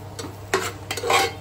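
Minced mutton kheema with masala being stirred in a pan gives a few soft scraping strokes over a faint sizzle, close and brief, with no voices.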